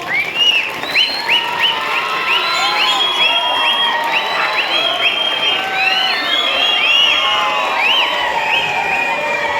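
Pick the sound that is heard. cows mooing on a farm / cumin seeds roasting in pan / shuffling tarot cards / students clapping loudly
students clapping loudly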